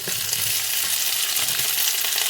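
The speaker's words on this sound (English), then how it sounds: "So I'm going to fry this up" Crumbled seitan fries in hot oil in a skillet, giving a steady, loud, close sizzle that crackles evenly throughout.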